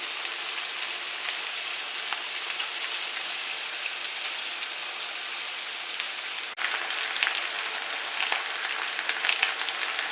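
Sarladaise potatoes with garlic sizzle in a pan, a steady, close, crackling hiss that holds for the whole stretch and grows slightly louder partway through, with no voices.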